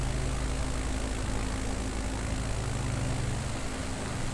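A propeller aircraft engine in Microsoft Flight Simulator 2020 drones steadily, with its tone shifting downward as the throttle is backed off over a constant wash of wind noise.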